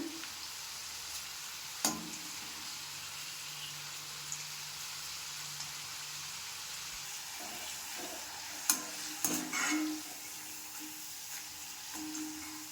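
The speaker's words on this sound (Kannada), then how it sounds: "ಇಲ್ಲಿ ಬರ್ತಿದ್ದ ಅವೆಲ್ಲ ಗುಳ್ಳೆಗಳು ಕಡಿಮೆ ಆಗೋವರೆಗೂ ಕರೆದ್ರೆ ಕ್ರಿಸ್ಪ್ ಆಗುತ್ತೆ" Steady crackling sizzle of okra frying in hot oil, with a few sharp clinks and scraping stirs of a spoon against the pan.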